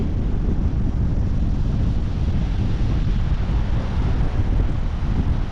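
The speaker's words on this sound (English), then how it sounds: "here along the coast. So windy, man. Windy, man." Strong coastal wind at a beach buffets the microphone in a constant loud, close roar, with the wash of ocean surf blended into the steady low rush and no voices.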